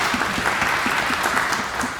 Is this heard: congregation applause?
yes